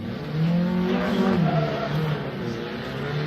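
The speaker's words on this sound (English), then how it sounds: "This Toyota Corolla throwing down, big angle there." A Toyota Corolla drift car launches off the start line during Formula Drift qualifying in Orlando, its engine revving loud and sustained with a rising, wavering tone and a hint of tire squeal, heard without commentary.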